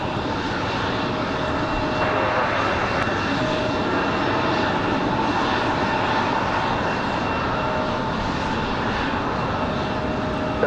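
Delta Airbus A220 jet departing Raleigh-Durham airport on a windy day, a steady loud engine roar that holds for the whole stretch, swelling slightly after the first couple of seconds with broad wind-blown noise and no voices.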